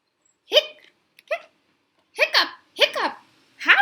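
A reader's voice imitates hiccups while reading aloud a Pete the Kitty picture book, giving five short, voiced hiccup bursts at uneven intervals, close and clear, with no other talk.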